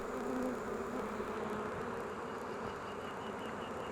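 Honey bees hum around an opened hive super while its frames are rearranged, giving a faint, steady buzzing drone with no break.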